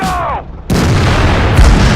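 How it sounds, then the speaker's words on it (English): Heavy tank cannon shots in the World of Tanks video game while trading fire with an IS-3: a loud, sudden boom followed by a rumbling blast and a second deep impact, with a voice briefly audible before the shots. "trading shots with the IS-3"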